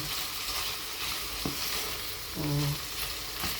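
Chicken and mixed vegetables sauté in butter for a chop suey–style dish, a steady close sizzle with a couple of utensil scrapes and knocks against the pan, no voices.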